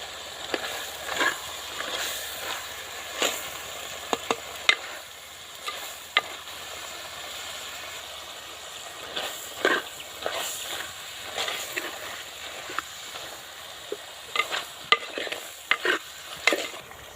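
A pot of Telangana-style country chicken curry simmering and sizzling after chili powder goes in, with a low steady hiss broken by intermittent spoon scrapes and clinks, close but soft, with no voices.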